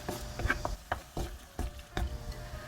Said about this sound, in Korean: 조개살이 자글자글 끓으면서 뽀얀 다시물이 많이 나오고 있습니다